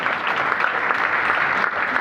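Sustained applause from a seated audience at a business meeting, even and fairly loud throughout, welcoming a speaker to the stage.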